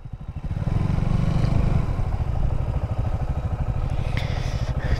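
KTM Duke 200 and Yamaha MT15 motorcycles at a drag race, engines running loud and close with a steady throbbing idle that builds into rougher revving, with no talk over them.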